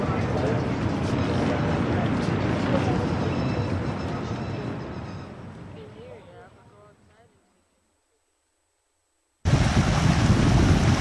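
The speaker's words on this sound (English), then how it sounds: "Here's some rapids, area called Rough Rock Falls" River rapids at Rough Rock Falls, South Dakota, a loud rushing roar of water that fades out to silence, then cuts back in abruptly at full strength.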